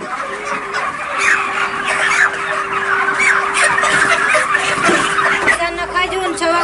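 Chicken clucking and fowl calls at a New Year picnic, heard close and fairly loud, with people talking over and around the birds.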